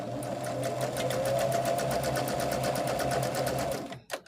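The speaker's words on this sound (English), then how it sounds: "I'm sewing my rows together for my last 2 blocks." A sewing machine joins the rows of a nine-patch quilt top with a fast, even, rhythmic stitching hum heard up close for about four seconds, then halts with a few light clicks.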